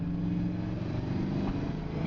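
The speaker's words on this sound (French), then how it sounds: "Le moteur se lance bien, elle accélère bien." A 1976 Chevrolet Camaro engine hums and revs upward, a steady motor drone rising slightly in pitch, heard from inside the car on a dry road.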